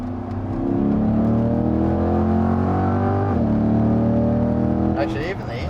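A car engine in tour mode revs loudly and steadily from inside the cabin, a sustained droning tone that climbs in pitch, dips briefly, then rises again, with people talking over it.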